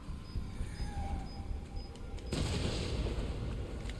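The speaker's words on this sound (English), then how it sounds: "So, I'm putting the bomb right in front of this cave. Popping it right there." A bomb set in front of a cave goes off in a video game, turning a steady low rumble into a sudden dense burst of broadband gunfire-like crackle about midway through that keeps rolling loudly to the end.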